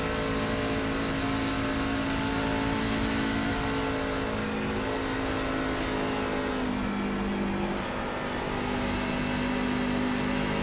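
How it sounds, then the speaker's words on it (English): A race truck engine in iRacing held at partial throttle, a steady droning whine that barely varies in pitch, loud and continuous with no talk. "You hear him like running 3/4 throttle here."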